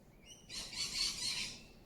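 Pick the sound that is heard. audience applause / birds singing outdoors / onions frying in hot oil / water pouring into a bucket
birds singing outdoors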